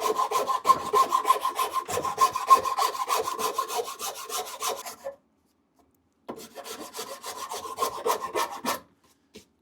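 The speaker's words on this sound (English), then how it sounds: "We're going to take a rasp and just start working some of this material down." A hand rasp files down the wood of a bandsaw box, with close, rhythmic scraping strokes in a quick steady series, a pause of about a second, then another run of strokes.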